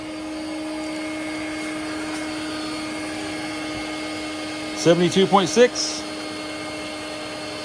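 A Milwaukee compact vacuum used as an air conditioner runs with a steady, even motor whine and airflow hiss throughout, while a voice briefly speaks over it near the end.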